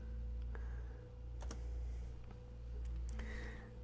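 Computer keyboard typing a file name in a quiet room, a handful of separate soft key clicks with pauses between them over a steady low hum.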